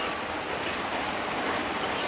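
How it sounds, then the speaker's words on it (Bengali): Onions and cumin fry in a pan while being stirred, giving a steady, close sizzling hiss with faint scrapes of the utensil throughout. No one speaks. "এখন ভালো করে নেড়ে পেঁয়াজটাকে ব্রাউন কালার করে ভেজে নেব।"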